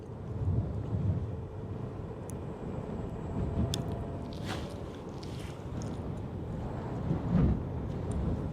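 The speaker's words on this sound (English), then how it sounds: "It is windy up here though." Wind sweeps across an exposed hilltop where a vehicle is being driven, a faint steady low rumble of gusts against the microphone with a few brief knocks and clicks and no talking.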